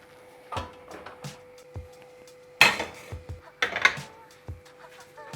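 A metal cooking pot holding East Indian-style chicken pot roast is shifted from one gas burner to another, with several close clanks and scrapes of metal on the stove grate and some softer knocks, alone and without talk.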